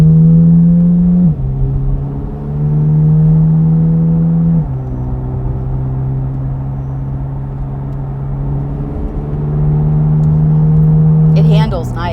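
A Corvette C8 Z06 with a loud aftermarket exhaust accelerates through the gears from inside the cabin, engine note climbing and dropping with each shift, a deep steady roar with a brief voice near the end.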